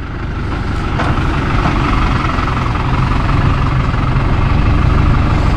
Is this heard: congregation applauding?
no